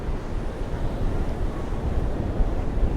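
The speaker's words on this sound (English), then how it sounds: "The waves are huge" Ocean surf on a very windy day at St. Pete Beach, Florida, with big waves breaking in a constant rumbling wash mixed with gusty wind noise on the microphone.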